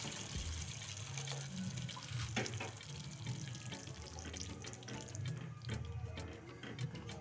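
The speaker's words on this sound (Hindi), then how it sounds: "अब इसमें हम थोड़ा सा गर्म पानी ऐड कर देंगे।" Hot water runs into a pan of simmering paneer butter masala gravy, a steady close pouring and bubbling with scattered clinks and splashes, quiet and with no voices.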